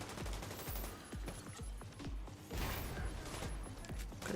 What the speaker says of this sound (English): I hate that they make you shoot the fence.